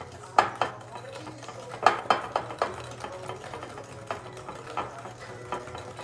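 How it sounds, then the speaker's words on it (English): A whisk working brownie batter in a bowl, with uneven clinks and taps against the bowl and soft stirring in between, close and moderate over a low background hum, no voices. "I'm gonna keep whisking that up till I get it well combined."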